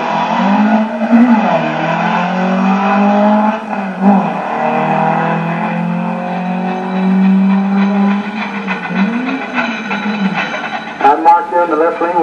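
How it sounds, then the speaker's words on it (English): A drag race between a 1980 Toyota and a 1986 Toyota Corolla, with loud engines revving and rising through the gears in repeated sweeping pitch climbs, while an announcer talks over the racing. "In the left lane, we got Marvel Garbage and a 1980 Toyota"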